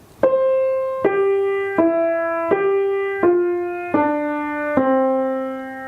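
Seven piano notes, the last phrase of "Silent Night" starting on C, are played one at a time at a slow, even pace, each ringing out and fading as the phrase steps downward.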